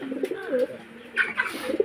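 Soft cooing of a pair of Teddy pigeons, a few throaty rolling coos close by, with brief pauses between calls.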